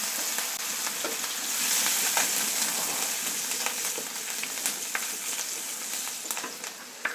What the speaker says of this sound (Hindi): अब डालते हैं हम कटा हुआ मिर्च और लहसुन।